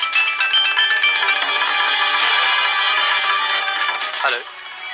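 A mobile phone ringtone plays during an Assamese TV serial scene: a bright, melodic tone runs steadily for about four seconds and then cuts off abruptly.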